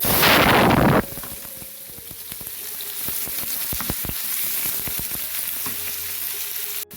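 Onions frying in hot oil for a sweet pumpkin and dried shrimp curry. A loud burst of hissing starts it, then a steady, close crackling sizzle with scattered pops continues.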